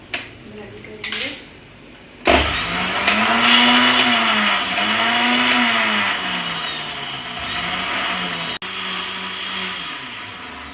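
Kitchen blender whirring through watermelon chunks for juice, a loud, steady motor roar that starts abruptly after a few lid clatters and runs on with slight pitch wavers before a brief cut.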